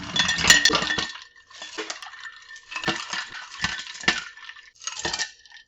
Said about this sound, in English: And just add about 2 cups of ice to your lemonade